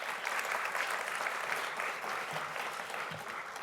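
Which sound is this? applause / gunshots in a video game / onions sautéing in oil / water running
applause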